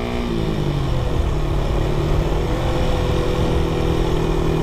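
Suzuki Raider 150 motorcycle engine, first generation fitted with GP shifting, revving loudly and continuously up close, its pitch dropping and settling as a gear change is made.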